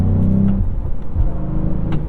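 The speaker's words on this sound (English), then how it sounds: "This thing has all kinds of wild exhaust pops and burbles." A 2022 Cadillac CT4-V Blackwing's exhaust rumbles loudly and steadily with low burbling, a few sharp pops breaking through near the start and end, heard close with no talk.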